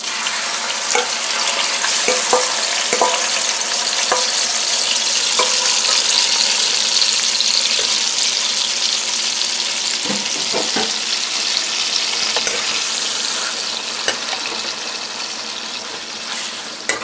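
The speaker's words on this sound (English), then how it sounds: "we're gonna go work on frying the chicken now" Chicken pieces frying in hot oil in a pan give a steady, loud sizzle with crackles and pops throughout, close by with no talking.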